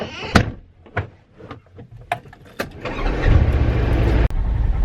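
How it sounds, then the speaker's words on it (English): Polaris Ranger XP 1000 utility vehicle: a few close clunks and rattles as it is boarded, then the engine cranks, catches and settles into a steady, loud running rumble. "we're gonna take this XP 1000 Polaris Ranger that we got here"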